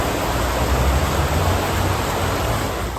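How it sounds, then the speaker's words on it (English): A muddy river flows near a park in Santiago, Chile, giving off a steady, loud, unbroken rushing roar with no one speaking. "This is a muddy river."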